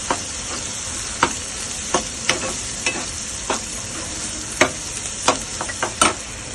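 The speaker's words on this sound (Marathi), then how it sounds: "आता त्याच्यात वाटप टाकून घेते वाटप पण जरा लाल करणार आहे" Ground masala paste sizzles steadily in a hot pan for a taro leaf curry, Aluchi Patal Bhaji, while a spoon stirs and scrapes in irregular clinks up close, with no talking.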